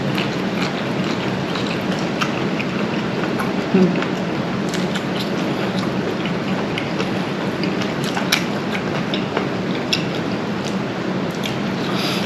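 Very heavy rain pours down steadily and loudly for the whole stretch, a dense unbroken hiss with scattered heavier splats and patters close by.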